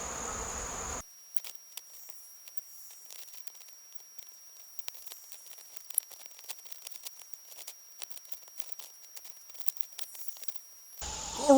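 Honey bees feeding on sugar syrup and honey set out on plates, a faint, steady buzzing with small scattered clicks and rustles, quiet and close throughout.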